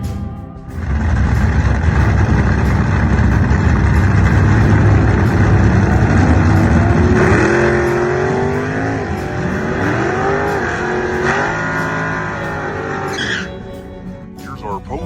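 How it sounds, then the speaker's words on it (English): Pickup truck spinning its tires at the start of an off-road race at Extreme Pine Valley Park, a loud sustained engine roar with squealing, revving tires that shift pitch over time, while people talk. "Spinning the tires."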